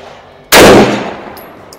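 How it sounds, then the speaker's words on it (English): A custom Mosin Nagant rifle firing hand loads at a steel target 100 yards out lets off one loud, close blast that rolls away in a long fading echo, followed by faint high ticks. "we'll go ahead and we'll shoot some rounds at 100 yards here"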